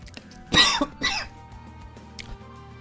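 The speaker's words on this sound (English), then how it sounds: "sometimes the cough sneaks up on me" A close, harsh double cough from one person, two raspy bursts a fraction of a second apart in a quiet room, followed by a faint throat sound.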